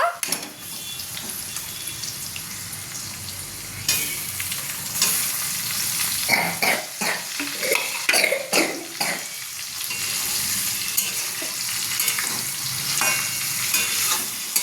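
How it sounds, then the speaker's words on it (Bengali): Lote fish curry fries and sizzles in a pan as it is stirred, with a steady hiss broken by scraping spoon strokes and a brief rush of running tap water near the middle. "এটাকেও একটু ভালো করে ভেজে নেব।"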